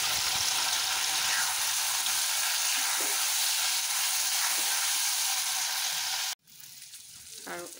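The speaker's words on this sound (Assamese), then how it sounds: "এইখিনি এনেকুৱাকৈ ভাজি, এয়া পিঁয়াজ দিলোঁ" Onions frying in a pan in a village kitchen, giving a steady loud sizzle that runs unbroken for several seconds, then cuts out abruptly and returns more softly with some stirring.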